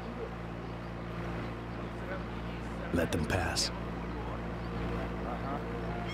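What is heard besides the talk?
boat engine approaching, from video game Sniper Ghost Warrior 2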